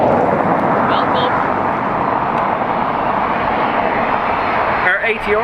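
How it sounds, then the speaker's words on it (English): An ATR turboprop airliner departs Dublin Airport for Belfast, a loud steady engine roar holding for several seconds, with a little talk and some faint interference near the end. "Our ATR is off to Belfast."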